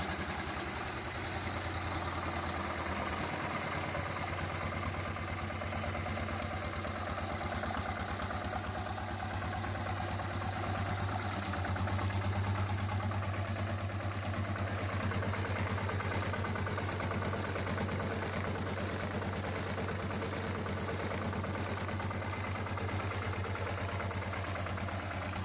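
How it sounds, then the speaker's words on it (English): A 1951 Deutz MAH 914 stationary engine idling with a slow, steady rhythmic exhaust beat, close and continuous with a low thumping drone throughout. "for its slow, rhythmic exhaust note and long lifespan, the Deutz MAH 914 of 1951 remains a valued piece among vintage machinery collectors"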